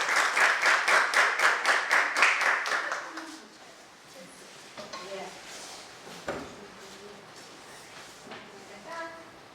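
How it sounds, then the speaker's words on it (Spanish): Rhythmic group clapping at a talk on child abuse prevention, loud, rapid and evenly timed for about three seconds, then dying away into scattered claps, shuffling and a few soft voices in the room. "Así que un fuerte aplauso"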